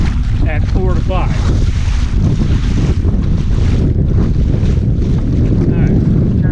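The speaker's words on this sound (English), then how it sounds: "I'm going into the wind. It's blowing about 15 miles an hour" Steady wind roars across the microphone aboard a Hobie PA 14 kayak with a Bixpy jet, heading into a roughly 15 mph breeze, with water wash beneath and a few faint distant voices; loud and constant throughout.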